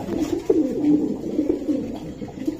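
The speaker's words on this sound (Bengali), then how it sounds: "ডাকটাও সুন্দর কবুতরটা, দেন কেমন ডাকতেছে, খুব সুন্দর একটা ডাকের কবুতর" A domestic pigeon coos repeatedly in low, throaty rolling calls, close and clear, with no voices.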